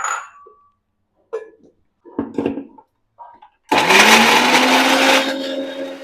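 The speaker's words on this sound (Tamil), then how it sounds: "இப்போ நம்ம நறுக்கிய மாம்பழத்தை மிக்சியில் போட்டு கூழாக அரைச்சிக்கோங்க" A few soft clinks and knocks, then a mixer grinder roars to life, whirring loudly and steadily as it purees chopped mango into pulp for lassi, easing slightly toward the end.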